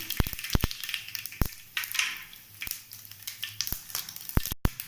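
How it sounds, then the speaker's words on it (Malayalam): Mustard seeds spluttering in hot coconut oil for a mango pickle, giving sharp irregular pops and crackles that come in scattered bursts over a faint sizzle, close by and with no talk. "വെളിച്ചെണ്ണ നന്നായിട്ട് ചൂടാകുമ്പോൾ നമുക്കിതിലേക്ക് കടുക്"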